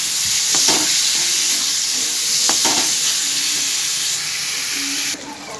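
Pointed gourd (potol) fries in a pan with a steady, close sizzle and hiss, broken by a few scraping stirs, and the sound drops slightly near the end.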